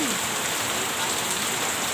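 Untimely rain falls steadily in an even, close hiss of drops on surfaces, with no breaks across the short stretch.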